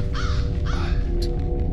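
Crow caws from the F.E.A.R. video game, two harsh calls in quick succession near the start over a steady low droning game ambience, with no talking.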